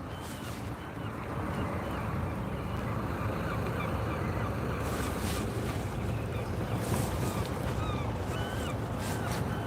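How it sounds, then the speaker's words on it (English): Gulls cry repeatedly over steady wind and rushing water noise at a seaside beach, their calls scattered and fairly distant across the whole stretch. "More seagulls."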